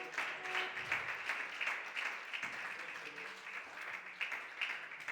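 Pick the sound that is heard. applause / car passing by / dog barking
applause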